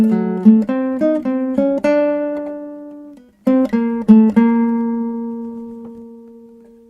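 Guitar playing a short melody from a jazz improvisation book, clean plucked single notes in two phrases separated by a brief pause, the last note ringing out, close and alone.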